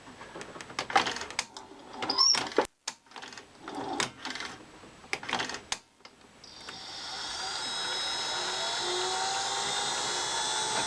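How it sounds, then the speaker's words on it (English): A steady, whirring motor hum from under the deck of a Ferguson 3V36 VHS recorder settles in and runs continuously after a few seconds of clattering, tapping handling noises. "that noise. It's coming from up here, like where this motor is, I think."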